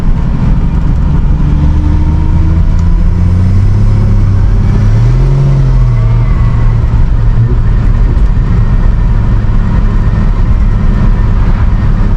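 A 1966 Ford Mustang cruising at night, heard from inside the cabin: a steady, loud low engine drone and road rumble that rises in pitch partway through as the car accelerates, with no talking.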